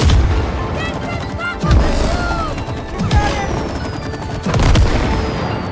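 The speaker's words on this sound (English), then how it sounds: "Combine the sap gun and the match gun to create explosions." Game explosions from combining a sap gun and a match gun in a level with wasps and squirrels, several sharp booms at intervals under a busy layer of music and effects.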